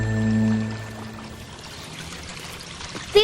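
Water pours from a concrete drainage pipe into a creek, a steady rushing splash heard close up with a low hum in the first moment and a sharper splash at the end.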